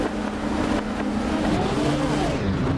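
Race car engine of the Revenga R13 in the Assetto Corsa racing game, revving hard and loud with a continuous roar and rising pitch sweeps as it pulls off the line.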